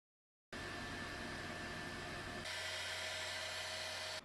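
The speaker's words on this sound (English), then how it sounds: "Filament purge is happening and waste filament will be shot out from the back." A Bambu Lab X1-Carbon 3D printer purging filament gives a steady, close whirring hum with a faint whine. Partway through, the tone shifts and grows slightly brighter, and it runs on without any talking.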